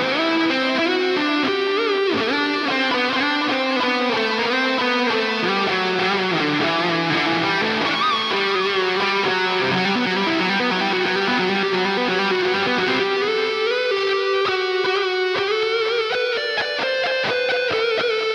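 Ormsby HypeGTR 8-string electric guitar on the neck pickup playing a distorted lead tone, a continuous melodic line with sustained bends over chorus-like effects, loud and steady throughout.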